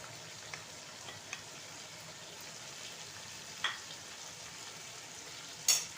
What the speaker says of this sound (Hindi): मसाले की अच्छी तरह भुनाई करें